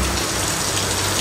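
Rain falls steadily during a road trip, a dense, even hiss of drops that sounds close and fairly loud, with no other sounds.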